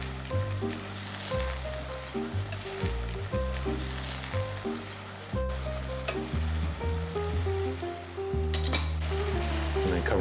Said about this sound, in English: You can take a tongs and you can keep the vegetables moving around so that they cook evenly bottom and top.